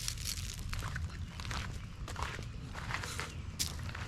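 Goats come walking over to be fed, their hooves making soft, scattered steps and rustles on straw, faint and nearby with no talking.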